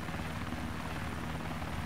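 Helicopter in the survival game DayZ, heard as a faint, continuous rotor whir and rumble from below, steady and unbroken with no voices over it.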